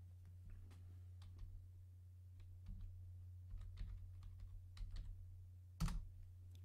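Keys clacking on a computer keyboard while text is entered in chess database software, quiet irregular tapping in short bursts over a steady low hum, with one louder clack near the end.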